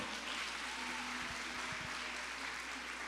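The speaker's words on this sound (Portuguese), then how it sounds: "vamos aplaudir o Senhor" Church congregation clapping together, a steady wash of applause heard at a distance with faint low hum beneath and no voices over it.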